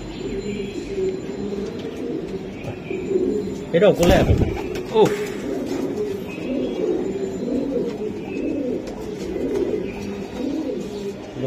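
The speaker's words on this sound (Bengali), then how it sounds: "এটা ইন্ডিয়ান কবুতর লাল শিরা, লাল শিরা।" Indian high flyer pigeons, red-veined birds of a racing high-flying breed, coo softly in low rolling murmurs close by, with a brief burst of wing flapping midway while people talk over them.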